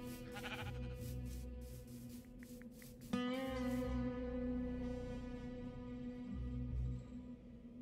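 Minecraft sheep let out a long, wavering bleat, loud and close, with a steady droning game background continuing underneath before and after.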